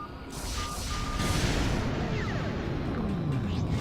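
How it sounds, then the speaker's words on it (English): An incoming missile blast in the space game Freelancer, a broad rumbling explosion that swells within the first second and sustains a heavy roar to the end, with faint thin tones overhead. "Incoming missile."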